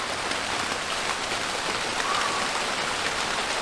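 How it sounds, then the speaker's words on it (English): Steady rain pours down outdoors in a continuous, even hiss of drops hitting surfaces, fairly loud and unbroken throughout, with a faint short tone partway through and no talking. "The rain. More, that's what we need."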